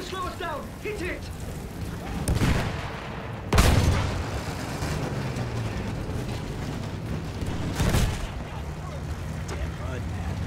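A field gun firing in the World War I shooter Battlefield 1 during a trench assault: several heavy, booming blasts, one of them close and loud, rising out of a constant roar of battle noise.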